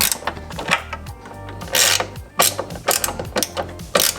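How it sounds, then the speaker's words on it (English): Small wrench ratcheting while tightening a taillight bolt on a Tesla Model Y: a rapid series of close, crisp metallic clicks in short bursts with brief pauses, no talk. "just use the same tool, the small wrench, and tighten it up"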